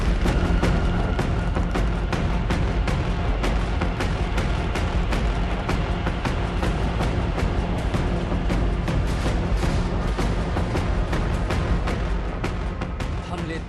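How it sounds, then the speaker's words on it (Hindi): War in Ukraine: a dense, continuous barrage of sharp blasts and booms, artillery fire and explosions cracking in rapid succession for over ten seconds, loud and unbroken. "थम नहीं रहे, धमाके रुक नहीं रहे"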